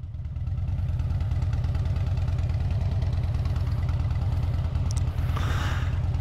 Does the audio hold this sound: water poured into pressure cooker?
no